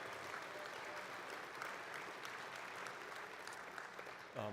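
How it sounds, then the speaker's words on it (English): An audience at an international conference on World War II gives a sustained round of applause for the events and facilities teams, an even wash of many people clapping that holds steady throughout. "let's give our events team and our facilities team a big round of applause"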